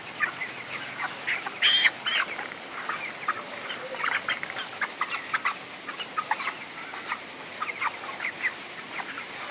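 Chickens, roughly two-kilogram birds in a poultry shed, cluck and squawk in irregular bursts over a constant hum, fairly close, with no talk.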